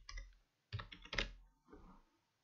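Typing on a computer keyboard while entering text in a CorelDRAW design program, with three short, close bursts of clicking keystrokes separated by brief pauses and no speech.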